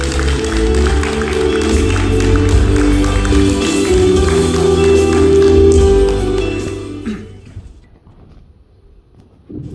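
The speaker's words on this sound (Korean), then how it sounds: "여러분들 뜨거운 박수로 맞아주세요." An audience at a village culture festival evening at a music venue applauds as a performer is welcomed, sustained clapping mixed with loud music and room noise, then fading out abruptly near the end.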